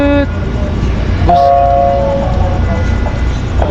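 A ship's horn blares loud and close for about a second amid a constant low engine rumble aboard a vessel travelling from Romblon to Lucena, after an earlier brief tone.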